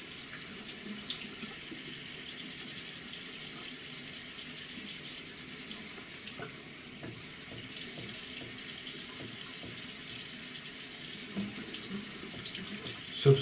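Water running from a bathroom tap into a sink while a shaving razor is rinsed, a steady close hiss of flowing water with occasional splashes and light clinks, continuous throughout.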